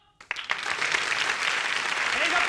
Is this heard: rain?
no